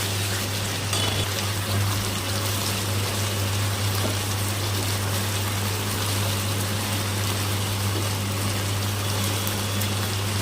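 Chopped pointed gourd (kakrol) tipped into hot spiced oil in a pan gives a loud, continuous, hissing sizzle that stays even from start to finish, with no one talking.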